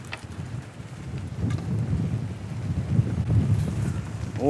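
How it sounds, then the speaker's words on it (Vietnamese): Strong wind gusts over a river during a fishing outing, buffeting the microphone in low, uneven rumbles that build toward the end, with no voices. "Ôi gió to quá."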